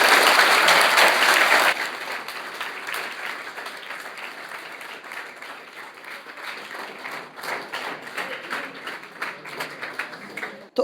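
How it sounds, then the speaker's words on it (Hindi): Loud applause from a school audience for a teacher at a government school, dense and strongest at the start, then thinning into scattered, uneven clapping that tapers off. "एक बार मैम के लिए जोरदार तालियां होनी चाहिए।"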